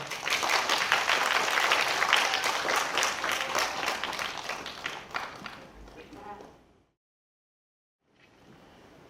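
An audience claps loudly to welcome performers onto the stage at an ensemble concert, a dense burst that fades away and drops to silence before quiet room sound returns.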